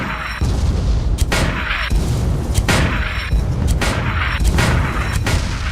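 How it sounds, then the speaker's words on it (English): Mortar fire and explosions from an airship battle in Guns of Icarus Alliance, heavy booming blasts repeating about every second over a constant loud rumble of engine and wind. "Get on the mortar and finish the piece of junk off. Blow it out of the sky."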